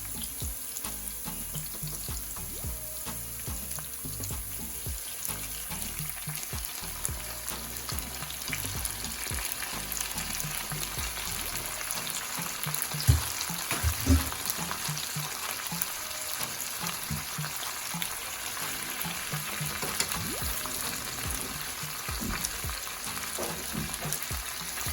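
Ackee and saltfish sizzle and fry steadily in a pan, with occasional stirring scrapes and clinks, a close continuous crackle with no talking.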